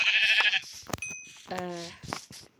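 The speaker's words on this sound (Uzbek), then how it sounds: "Qo'y bor ekan." A sheep in Minecraft bleats once in a wavering, game-like tone, preceded by other short electronic sounds and a voice in the background.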